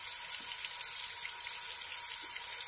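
Tap water runs steadily while acid-etched glass is rinsed under it to remove etching cream, a continuous bright hiss with small splashy variations.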